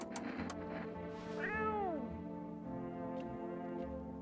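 A cat gives a drawn-out, rising-and-falling meow, close by but soft, amid quiet room background and faint talk.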